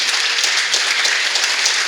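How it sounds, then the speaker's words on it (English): An audience at a comedy hypnosis show at a Christmas party claps together in a dense, sustained round of applause, steady and fairly loud throughout. "Answer with your applause if you have."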